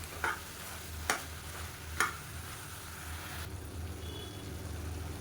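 Chicken sautéing in a pan with turmeric for Madurai-style uppu kari, a soft steady sizzle under three sharp spoon scrapes while it is stirred, then a quieter sizzle alone.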